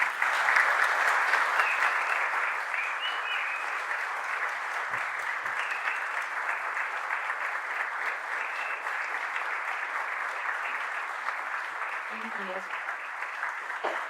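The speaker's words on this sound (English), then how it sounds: "Let's give them a round of applause." An audience at an art event claps for the artists in a long, steady wave of applause that slowly thins toward the end, with a few faint voices underneath.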